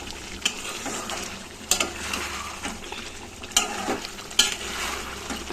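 Chicken and potatoes fry in a pan with a soft, steady sizzle, broken by occasional sharp clinks and scrapes of a utensil against the pan. The sound is quiet and close, with no talking.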